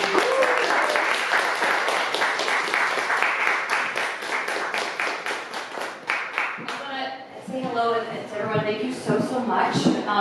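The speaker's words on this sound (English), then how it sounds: "So let's have a round of applause." Clapping from an audience for a panel on policy and activism, brisk and steady at first, then thinning out and fading as a voice begins speaking over the last few seconds.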